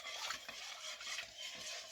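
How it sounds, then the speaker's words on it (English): A utensil stirs sugar into bread ingredients in a mixing bowl, producing a soft, faint gritty scraping that sweeps in repeated strokes, close and quiet with no talking. "Give it a stir"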